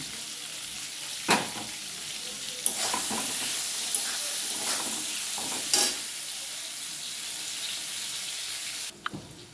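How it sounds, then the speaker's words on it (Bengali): Fish fry in a pan for a prawn, potato and mustard-poppy-seed dish, a steady loud sizzle running throughout, broken by a few sharp clinks and spatters of stirring. "দেখুন মাছগুলো আমার ভাজা হয়ে গেছে।"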